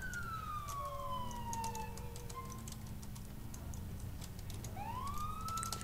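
Police car siren in the LCPDFR mod for GTA IV, its wailing tone sweeping down slowly and then rising again, heard faintly over a low rumbling engine drone with scattered clicks.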